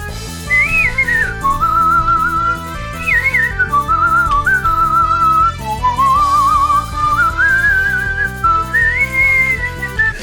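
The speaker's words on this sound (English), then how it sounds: "This is definitely one of the most fun songs to whistle that I've heard in a really long time." A person whistles a lively song melody, the clear tune rising and falling in quick phrases over a steady rhythmic backing.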